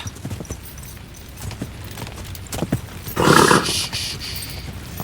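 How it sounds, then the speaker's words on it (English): A horse in the medieval video game Kingdom Come: Deliverance II, with scattered hoof clip-clops and a short burst of louder noise that may be a whinny, fairly faint against background game ambience. "Easy, good horse."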